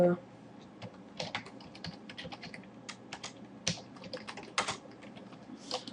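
Computer keyboard typing in quick irregular bursts of clicks, fairly close and moderate in level, with a faint low hum underneath and no talk.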